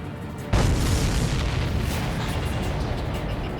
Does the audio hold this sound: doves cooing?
no